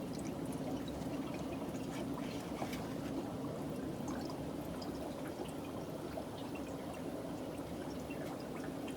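Wash water from a black worm culture pours steadily into a container, a continuous splashing trickle lasting throughout at moderate level, close by.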